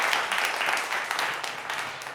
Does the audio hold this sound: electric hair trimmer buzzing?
no